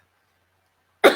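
A single harsh bronchial cough from a woman with long COVID bursts out suddenly after a second of silence, loud and close, clipped short at the end.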